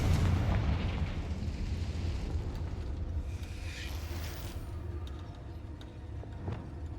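A Confringo spell explosion in Hogwarts Legacy on PC erupts as a heavy, booming blast right at the start, then trails off into a sustained low rumble and crackling roar that slowly fades.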